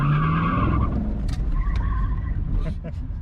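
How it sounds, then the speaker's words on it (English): A 2012 Camaro SS spins and skids its rear tires in a loud, close, rough screech with heavy low engine rumble, while voices talk over it. "We're gonna step on the gas as soon as the back tires start spinning."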